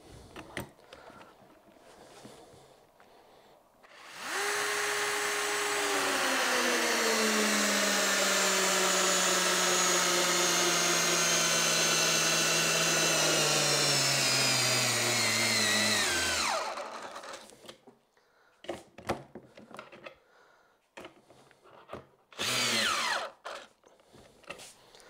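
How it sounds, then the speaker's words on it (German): A Bosch cordless drill drives a thick screw, its motor whining up loud and steady for about twelve seconds while the pitch gradually drops under load, then stopping, followed by a few short bursts and handling noises. "wollen da mal versuchen, ob wir die Schraube hier mit dem Bosch reinkriegen"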